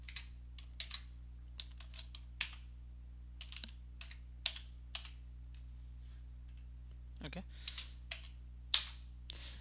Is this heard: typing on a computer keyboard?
yes